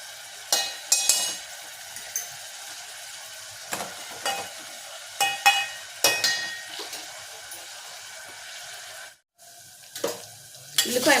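Chopped onion pieces sizzle and fry in a pan for a tomato and brinjal tamarind curry, with steady frying hiss and several sharp stirring scrapes and clinks of the spoon, briefly cutting out near the end.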